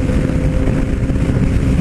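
Yamaha MT-09 Tracer motorcycle engine idling and being blipped close up, a loud continuous rumble lasting under two seconds.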